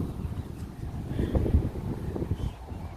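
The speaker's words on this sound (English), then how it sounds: "Sorry about the wind." Gusty wind from a storm buffets the microphone with low, rumbling thumps, rising and falling unevenly throughout.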